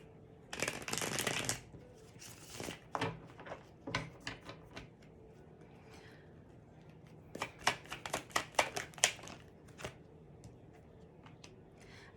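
Cards from a Tarot of Wonderland deck being shuffled in repeated quick riffling bursts, close and fairly quiet, with pauses between rounds and no talking.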